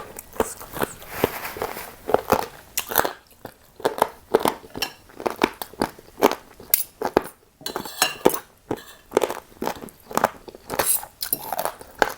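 Someone chews soft pork cartilage in a spicy curry, producing steady, close, crunchy bites and crackles in a repeating rhythm, with occasional clinks of cutlery or dishes and no talking.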